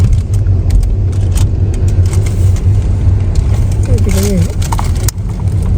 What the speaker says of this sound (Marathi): आता आम्ही गाडी पार्क करतोय